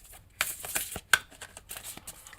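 Tarot cards being shuffled, a quiet run of soft papery riffles and slaps with one sharper snap near the middle, close and alone with no talk.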